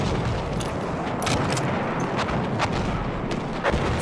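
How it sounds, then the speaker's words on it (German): Battlefield 1 gunfire crackles in rapid bursts through a dense, noisy battlefield mix, with sharp repeated shots over constant rumble. "Ein Maschinengewehr!"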